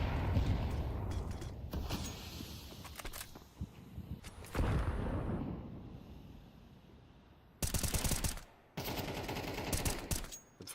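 M4A1 rifle fire from a Counter-Strike style video game match, heard as scattered rapid bursts and sharp shots over a background rumble, with a dense volley near the end and no talk.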